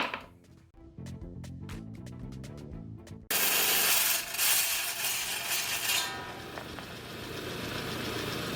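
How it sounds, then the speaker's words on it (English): A rock saw starts cutting into a piece of rock. After some clinks and handling, a sudden loud, steady grinding hiss sets in and then eases slightly as the blade bites through the stone, with no talking. "So let me pick out another piece and we'll cut another piece."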